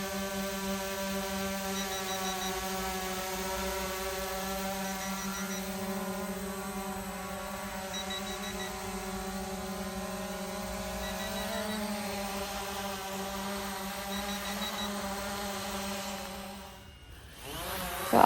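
A CHUBORY X11 Pro GPS drone flies overhead with a steady, high buzzing whine of its rotors that holds for many seconds, closing with a brief handling rustle and no talking.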